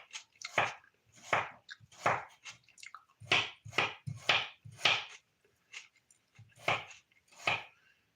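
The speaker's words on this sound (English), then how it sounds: "Next step, minced onions." Knife mincing onions on a small cutting board in a kitchen, crisp close chops arriving in quick bursts separated by short pauses.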